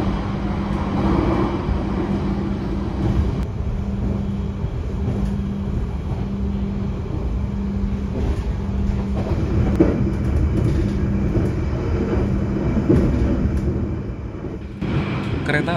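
Argo Bromo Anggrek express train on the Surabaya–Jakarta run at top speed, a steady loud rolling rumble with a faint hum and soft rhythmic rail clatter throughout.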